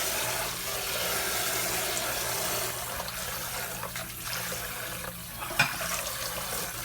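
Tap water runs steadily while sea moss is washed and massaged in a sink to remove salt, a continuous close hiss of flowing water with faint handling splashes and a small clink near the end.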